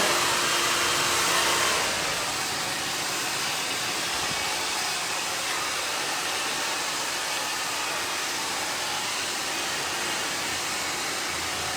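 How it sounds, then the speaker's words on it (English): A hair dryer blows steadily while hair is wrap-dried with a flat brush during a men's short haircut, its loud, even whoosh running the whole time, with a slight drop in pitch after the first two seconds. "I just want to wrap dry the hair first."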